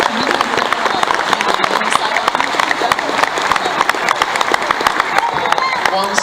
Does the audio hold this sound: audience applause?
yes